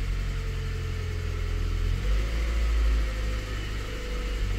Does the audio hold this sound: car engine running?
yes